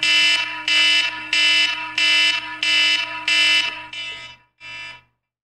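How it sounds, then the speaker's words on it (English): A loud, harsh electronic emergency alert alarm blares in six regular pulses, then a shorter burst after a brief gap. "Y'all know what the worst alarm is out there? It's this shit right here."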